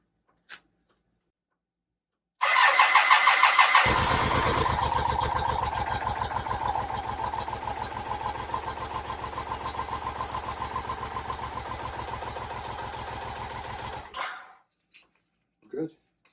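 A rebuilt BMW K75 motorcycle engine cranks, catches and settles into a steady, loud idle for about ten seconds, then shuts off and falls silent.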